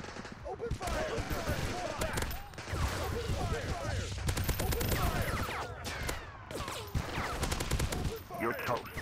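Rapid bursts of automatic gunfire and shots crackle through a Modern Combat video game battle, dense and continuous, with shouted voices mixed in.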